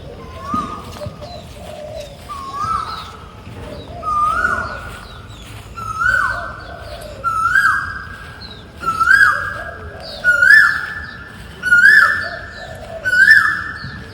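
An Asian koel calls from a guava garden beside a house in Singapore: about eight loud, rising two-note whistles repeat roughly every one and a half seconds, each climbing higher and more insistent than the last, over faint background hum.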